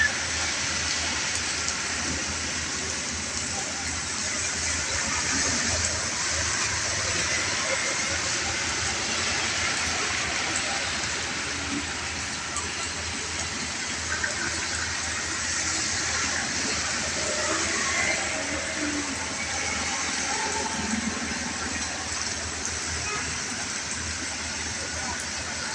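Heavy rain pours with thunder about, a dense continuous hiss and rush of water lasting throughout, steady and loud with a low rumble beneath.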